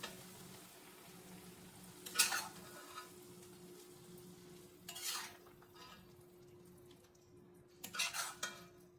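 Mutton liver fry scraped from a pan into a bowl: three separate bursts of metal utensil clatter and scraping spaced a few seconds apart, fairly faint, over a steady low hum, with no talking.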